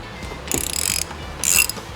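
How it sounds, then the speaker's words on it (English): Ratchet wrench loosening an 8mm pinch bolt on the right side of a motorcycle during a brake rotor install on a Lowrider ST, heard as two short bursts of clicking ratchet strokes close up, with no talk. "We're gonna go ahead and loosen the 8mm pinch bolt on the right side of the bike."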